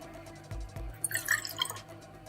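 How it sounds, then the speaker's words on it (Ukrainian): Grapefruit juice is poured into a cocktail shaker already holding tequila for a margarita. It makes a brief close trickling splash lasting about a second, with a few drips before it and no voices. "Тому беру шейкер і в нього наливаю."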